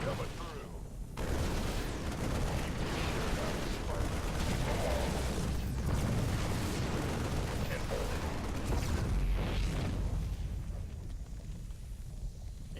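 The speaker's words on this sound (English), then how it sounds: "They do make a pretty explosion." Loud, continuous barrage of booming explosions and crackling blasts in the video game StarCraft II, sustained and dense throughout, with voices faintly mixed in.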